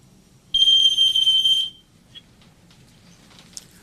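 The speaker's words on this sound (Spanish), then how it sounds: "pruebo el detector de humo" A smoke detector under test lets out one shrill, piercing alarm tone lasting just over a second, close and loud, then stops in a quiet room. No one talks.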